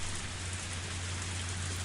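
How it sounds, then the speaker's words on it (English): Steady, intense rain pours down as a continuous hiss with a faint low hum beneath, a looping ambience from the Higurashi visual novel Tatarigoroshi, quiet and unbroken with no voices. "The rain was still pretty intense."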